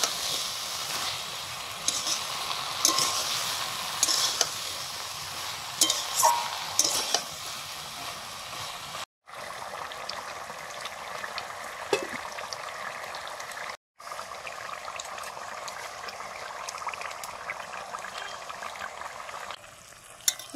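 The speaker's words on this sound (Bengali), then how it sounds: "পুঁই শাকটা কষিয়ে নেওয়ার পরে সর্ষে বাটা দিয়ে দিলাম" Malabar spinach sautéed in a pan, a continuous close sizzle of frying with scraping stir strokes throughout, briefly cut off twice, steady and fairly loud.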